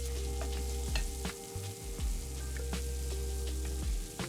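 A vodka sauce sizzles and cooks down in a pan with a steady hiss, with scattered spoon clinks and a low rumble underneath, and no speech.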